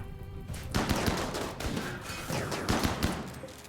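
Turrets open fire in the colony-building video game RimWorld, a dense, continuous clatter of rapid gunshots and bursts lasting several seconds, loud and close with no voices over it.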